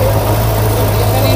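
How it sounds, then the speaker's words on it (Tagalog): A Kove 450RR sportbike's inline-four engine on its stock exhaust runs with a loud, steady, smooth drone close to the microphone, holding an even pitch throughout. "So ayan po ang tunog ng kanyang inline 4 sound"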